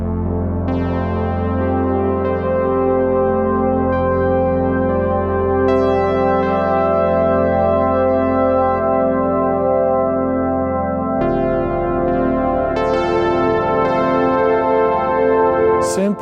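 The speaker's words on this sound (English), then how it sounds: "This is the Inch and Down Oil Tanks, which is the longest natural reverb in the world." Sustained synthesizer chords ring through the vast concrete Inchindown oil tanks, whose extremely long natural reverb smears each note into a dense, continuous wash; notes shift and layer over sixteen seconds without pause.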